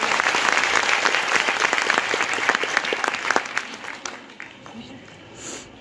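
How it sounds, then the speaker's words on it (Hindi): Enthusiastic audience applause after a talk on empowering daughters, a dense sustained clapping from a large crowd that thins out and fades toward the end, with a voice briefly heard. "जोरदार तालियां मैडम के लिए"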